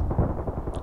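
A grenade detonating in the online shooter Contract Wars, a short low booming thump under a second long, heard alone.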